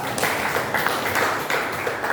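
Classroom applause from a group of students, a short, even stretch of many hands clapping at moderate loudness with faint rhythmic pulses throughout.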